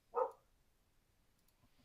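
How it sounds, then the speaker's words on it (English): A dog barks once, a short near bark that stands out clearly, followed by quiet, with another sound starting right at the end. "as my dog goes crazy"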